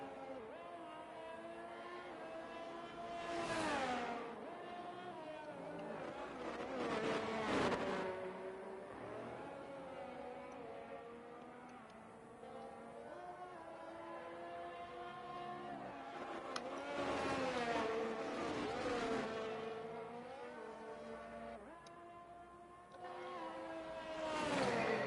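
Ferrari Formula 1 car engine in a racing video game at Abu Dhabi, a steady high-revving whine with rising gear pitches and shifts throughout, continuous and fairly loud.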